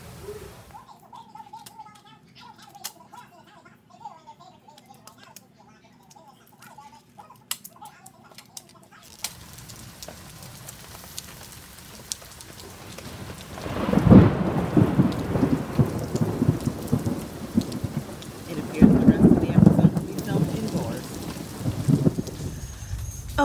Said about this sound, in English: it's still raining. So I'm on my front porch and we've got some nature sounds.